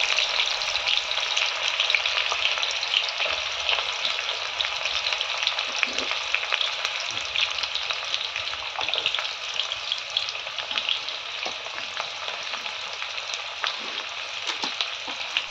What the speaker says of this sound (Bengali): এখানে তেলটা গরম হওয়ার পরে এখানে পেঁয়াজ কুচি, যেগুলি আমি পেঁয়াজ কুচি করে রেখেছিলাম, ওগুলি দিয়ে দিচ্ছে।